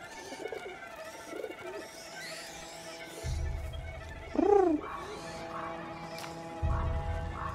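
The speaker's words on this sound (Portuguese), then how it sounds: "Um pombo, velho." A pigeon coos in the medieval video game A Plague Tale: Innocence, one clear rising-and-falling call near the middle over quiet game ambience and low rumbles.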